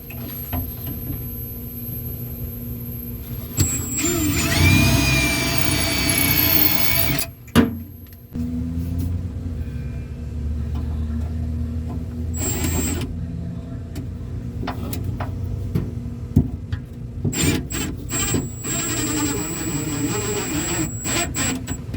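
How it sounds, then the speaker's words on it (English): A cordless drill bores a pilot hole and then drives a screw with a washer to fit a shelf in a trailer tool box, with close whining motor bursts rising and stopping between quieter pauses. "We'll do a pilot hole and then put one of these screws up in there"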